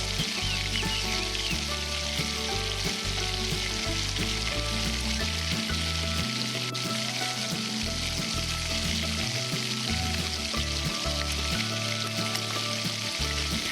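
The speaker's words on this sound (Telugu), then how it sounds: "మసాలా దినుసులు వేగాక ఆ ఎగ్ తీసుకొని ఇందులో వేసి పచ్చివాసన పోయేదాకా వేగనియాలి." An egg fries with spices in a tiny miniature pan, a steady close sizzle crackling throughout with faint stirring scrapes and no voices.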